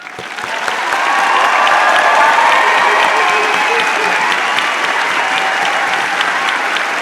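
Large crowd at the UC Santa Cruz Porter College commencement breaks into loud applause for the graduating class, swelling quickly and holding as a dense, steady roar of clapping.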